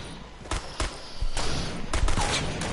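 Sharp gunshots in a video game sniper shootout crack out several times in quick succession, loud and close, over a steady background din of game noise.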